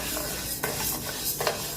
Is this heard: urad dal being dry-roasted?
yes